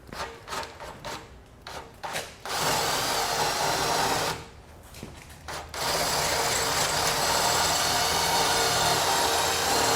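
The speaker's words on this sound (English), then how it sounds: "We're going to use the same size drill bit and hardware we've been using before to drill through this" Power drill drilling through metal on a 2020 Chevrolet Sonic for a base plate install, whirring in bursts: short ratcheting pulses, then two long steady runs of a loud, close, grinding motor drone.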